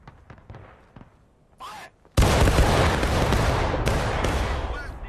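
A battalion fires a massed musket volley at Gettysburg in the Civil War game War of Rights: after shouted commands, a huge crackling roar of many shots erupts at once and rumbles on with scattered follow-up reports.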